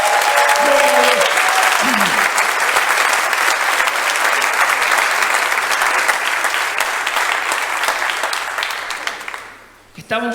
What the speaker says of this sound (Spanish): ese aplauso para Jesús puede ser más fuerte